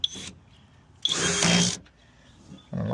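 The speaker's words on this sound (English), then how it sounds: "I had it on the drill mode." A cordless drill in drill mode gives two short whirring bursts, close and moderately loud, with quiet gaps between them and a third burst starting at the end. It is used while replacing the window motor and regulator on a 2008 Tahoe.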